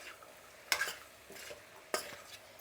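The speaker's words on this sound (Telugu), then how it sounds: "ఇప్పుడు ఒకసారి కలుపుకుందాము" Potato curry being stirred in a pan, two sharp scraping clatters of a spoon against the metal over a faint quiet sizzle.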